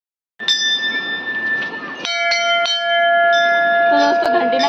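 A temple bell at Kalimath is struck a few times, its bright metallic tones ringing and overlapping in sustained, shimmering decay, with faint crowd noise underneath.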